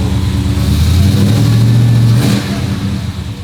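Dodge race car engine revving hard through a new exhaust, a loud close roar that climbs in pitch and then drops off.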